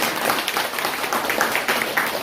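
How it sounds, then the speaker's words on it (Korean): Church conference audience applauding briefly, a short, dense burst of many hands clapping at moderate loudness, with no talk over it. "박수 한번 해주세요."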